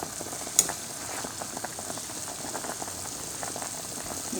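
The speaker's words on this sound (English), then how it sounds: "when it's really boiling, you don't need to turn the heat high now because it still keep boiling" A pot of Tom Yum Gai soup bubbles and simmers steadily at a low, soft level on the stove, with one small clink near the start and no voices.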